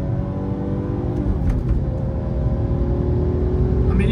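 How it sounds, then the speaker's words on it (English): A BMW M3 pulling hard in third gear, its engine revving steadily upward under acceleration, loud and close throughout. "So this is basically a third gear pull. We're just going to go to 6."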